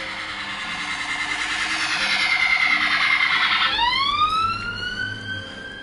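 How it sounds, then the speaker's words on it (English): An emergency siren from an ambulance or police car in Skyrim wails at steady volume, then shifts into a rising sweep partway through, loud and near, with no speech. "Just a ambulance or a police car."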